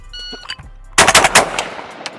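A Remington V3 Waterfowl Pro shotgun is fired in fast succession during speed shooting, a close, loud burst of several rapid blasts with a short echoing tail.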